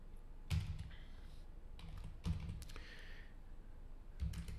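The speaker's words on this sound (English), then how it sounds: "type my credentials" Quiet typing on a computer keyboard while entering login credentials, short bursts of soft clicking keystrokes with pauses between them, close by and alone.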